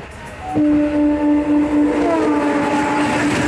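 The SMVT Bengaluru–Guwahati superfast express rushes past close by with a loud, steady roar and a sustained horn-like tone that sounds through most of the passage.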